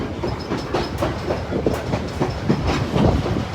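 A heritage train rolls along the Niles Canyon Railway, its wheels giving a steady, rhythmic clickety-clack over the rail joints, heard close and continuous with no talking.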